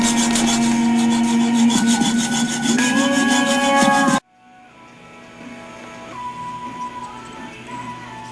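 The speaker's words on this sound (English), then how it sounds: "Cut a groove in it for a flathead screwdriver." Hand sawing a groove into a head bolt on a 2004 VW Jetta 2.0L engine to make a flathead screwdriver slot: rapid rhythmic rasping strokes up close for about four seconds, then stopping to quieter background noise.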